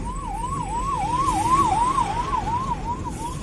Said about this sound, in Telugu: అంబులెన్స్కి మాత్రం కంపల్సరీ సైడ్ అవ్వాల్సిందేనండి